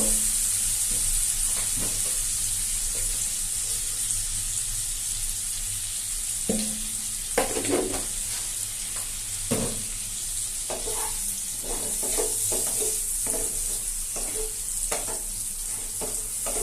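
Chicken chili frying in a pan with soy sauce and a little sugar, a steady close sizzle running throughout while a spatula scrapes and stirs in irregular bursts.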